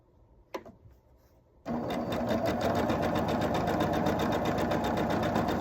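A sewing machine stitches a quilt block in a steady, rapid mechanical whir with fast rhythmic needle chatter. It starts after a quiet moment with a light tap and then runs continuously, close and loud, with no voices.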